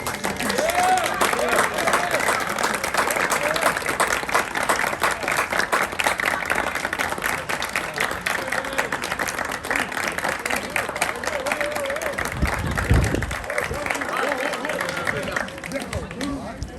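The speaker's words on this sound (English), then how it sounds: "give them a nice round of applause" Audience at a boys' junior varsity sports awards ceremony applauding the parents, sustained loud clapping from a large crowd in a hall with murmuring voices, tapering slightly near the end.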